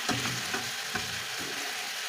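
Chicken and onions fry together in a pan, a steady close sizzle and crackle running throughout with a few faint scraping knocks, no voices.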